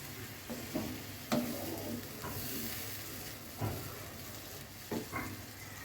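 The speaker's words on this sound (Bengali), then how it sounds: "এরপরে এই যে লাউ শাক দিয়ে দিই।" Bottle gourd greens stir-fried with ground spices and salt in a pan, heard as a faint, steady sizzle with a few scattered soft stirring knocks and scrapes.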